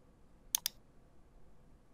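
Two quick, crisp computer mouse clicks land close together as the Save button is pressed, sharp and isolated against a quiet background with no talking.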